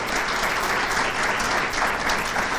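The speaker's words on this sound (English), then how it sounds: "Let's give them a round of applause." Audience at an awards ceremony giving sustained clapping, dense and even from start to end, loud, from a crowd in a hall.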